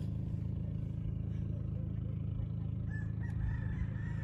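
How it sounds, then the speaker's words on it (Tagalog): A rooster crows in the distance over a low, steady rumble of engine and outdoor background noise. "May mga manok-manok pa."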